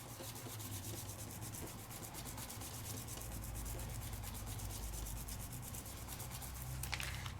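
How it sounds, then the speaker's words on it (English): Steady dry rubbing as sticky dots are pressed onto a paper heart die-cut for a shaker card, a continuous close scratchy friction with no talk. "Give a good rub."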